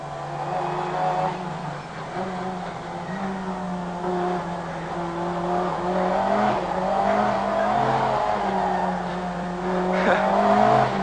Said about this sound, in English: Tending to understeer into the corners and then snapping to oversteer when the brute power of 500 horsepower is applied.